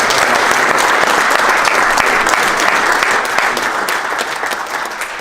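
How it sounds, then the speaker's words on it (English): A crowd at a lacrosse coaches' breakfast applauds loudly and steadily, the clapping tapering off slightly near the end. "Why don't we give these guys a warm round of applause?"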